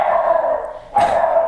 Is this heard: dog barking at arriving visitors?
yes